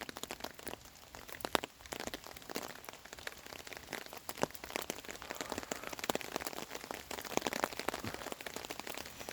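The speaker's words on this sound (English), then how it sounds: "Oh yeah, it's raining now." Rain falling on a wet campsite in open land, a steady soft patter of countless drops striking surfaces with occasional sharper taps, faint and continuous throughout with no voices.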